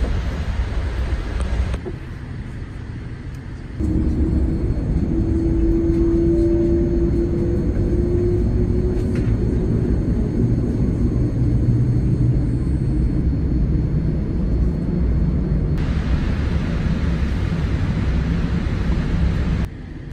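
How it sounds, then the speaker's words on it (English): A British Airways Boeing 787 taxis out to the runway at Calgary International Airport, heard from inside the cabin as a constant low rumble with a faint rising whine partway through. "We started our taxi out to the active runway here at Calgary International Airport."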